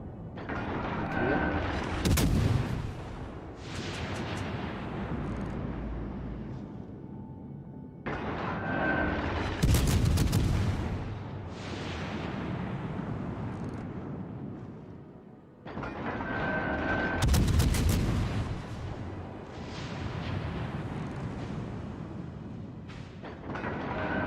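Heavy naval guns from a warship thunder in World of Warships: Legends, three big broadside volleys spaced several seconds apart, each a loud boom with a crackling tail, over a constant rumble of battle with no talk.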